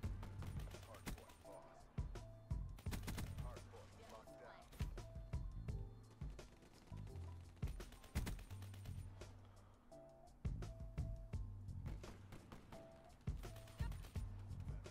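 MP40 submachine gun fire in Black Ops 3 comes in repeated rapid bursts over a continuous game soundscape. The shots are loud and close, and a player talks between them.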